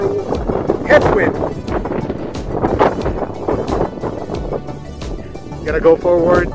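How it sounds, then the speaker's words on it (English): A 20 mph headwind buffets the microphone on a bike ride, a rough, gusty rumble that swells and fades beneath someone talking throughout. "That's the sound of a 20 mile per hour headwind."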